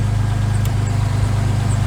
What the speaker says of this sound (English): I'm going to turn the car on, just so we can be on the safe side.